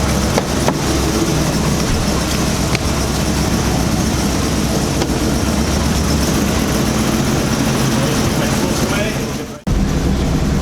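A 1980s BMW E24 633CSi coupe, just revived after sitting underground for eight years, runs at a steady idle. It gives a loud, continuous low engine drone close by that holds throughout and briefly dips near the end.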